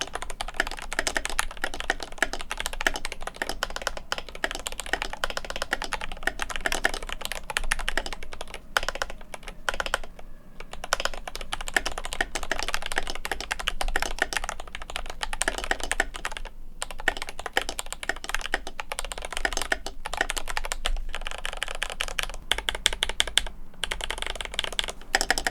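Continuous rapid clacking of an IQUNIX OG80 compact 80% mechanical keyboard, keys striking steadily for the whole stretch, close and crisp with no voices.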